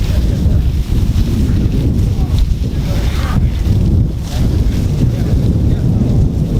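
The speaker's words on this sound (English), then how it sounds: "Well, the wind came back." Steady wind roars across an open field, buffeting the microphone with a continuous low rumble and gusty rushes that swell and ease throughout.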